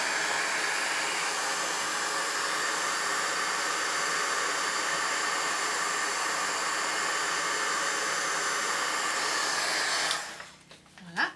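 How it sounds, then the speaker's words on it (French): A heat gun blows hot air over embossing powder, a loud steady whooshing hiss that runs for about ten seconds before cutting off abruptly. "vous prenez votre pistolet chauffant et vous chauffez"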